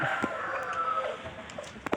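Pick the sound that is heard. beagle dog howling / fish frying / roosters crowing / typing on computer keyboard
roosters crowing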